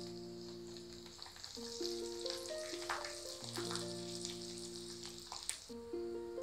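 Red chili powder hits hot oil for a broad bean curry and gives a quiet, steady sizzle and crackle, with soft background music throughout and an occasional faint clink.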